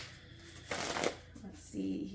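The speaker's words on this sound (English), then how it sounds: "Let's get some shuffling here." Tarot cards shuffled by hand, a dense papery riffle building to a loud burst in the middle, followed by softer rustling and a low voice murmuring underneath.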